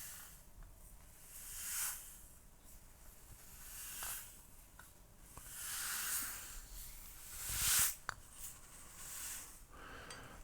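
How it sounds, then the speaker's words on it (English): A tape dispenser being used in a quiet room: soft, faint rustling and hissing strokes recur, ending in one sharper ripping pull of tape near the end. "My trusty tape dispenser."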